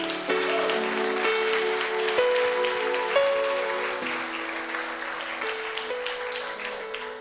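Congregation applauding to the Lord during a church sermon, sustained loud clapping from a crowd over steady organ or keyboard chords, continuing for several seconds.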